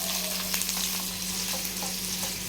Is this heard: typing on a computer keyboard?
no